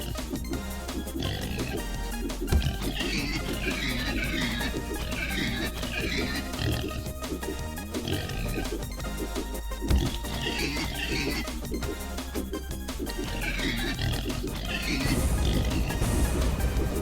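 King Pig, a boss character in the video game Turnip Boy Commits Tax Evasion, lets out repeated oinking grunts over steady, loud game music and battle effects, with a louder burst near the end.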